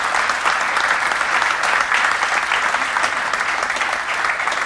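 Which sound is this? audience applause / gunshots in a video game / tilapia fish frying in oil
audience applause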